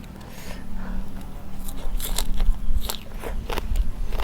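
Crunchy biting and chewing of spicy pounded papaya salad topped with small shrimp, close and irregular, with soft rustling and scraping between bites and no clear talk.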